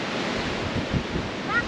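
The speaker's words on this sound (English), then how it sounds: "It's very windy." Steady wind buffeting the microphone over a low rush of surf at a beach in Mindanao, with a brief faint whistle near the end.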